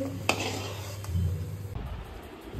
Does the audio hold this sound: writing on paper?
no